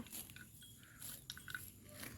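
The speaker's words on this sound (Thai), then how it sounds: "เขาโคตรเคี้ยวงามไปเลย" Cattle chewing grass in a rural pasture before school, soft crunchy bites and grinding mastication heard up close but faint, in a quiet outdoor setting.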